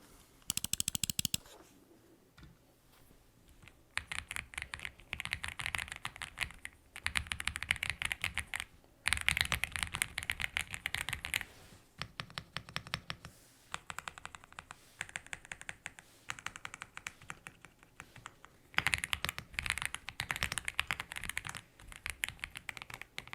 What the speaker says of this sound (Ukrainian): Можемо переходити до повноцінного тайпінгу.